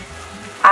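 Meat browns in a pan on a stovetop range for taco cups, giving a short, close burst of sizzling frying that swells at the very end. No one speaks.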